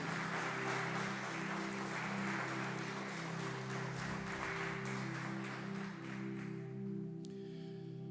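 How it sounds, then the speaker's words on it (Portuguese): A church congregation applauds during a sermon, sustained clapping from the crowd over a steady organ or keyboard chord, fading slightly toward the end. "Queria que você aplaudisse esse Deus mais uma vez."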